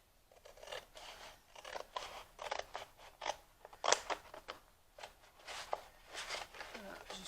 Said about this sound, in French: Vous allez couper sur le trait, c'est tout.